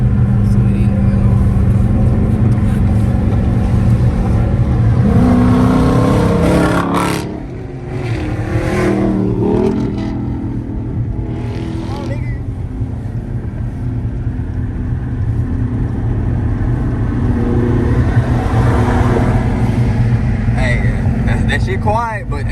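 A turbocharged Audi engine runs at a car meet with a loud, steady rumble throughout, rising and dipping slightly, while voices talk over it.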